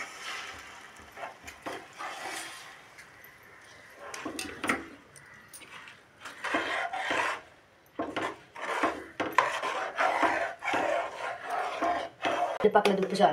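A spoon scrapes and stirs a thick ragi porridge mixture in a pot, making irregular close rasping strokes that grow busier and louder toward the end.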